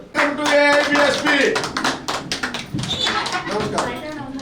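Applause and scattered clapping from a crowd at a Bahujan Samaj Party joining event in Eluru, with a voice speaking into a microphone over it, the clapping dense at first and then thinning out.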